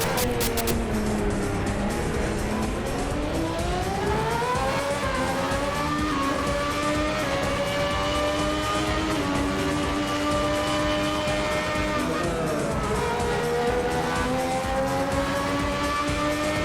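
Loud, high-revving engine of a 1994 Formula One car in Assetto Corsa, pitch climbing and dropping through gear changes and corners, continuous and close with no talking.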